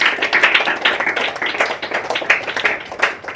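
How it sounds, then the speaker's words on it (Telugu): Children clap together at a birthday celebration in a children's home, a loud, steady, rapid patter of many hands close by. "సో అందరూ ఒకసారి చప్పట్లు కొట్టండి."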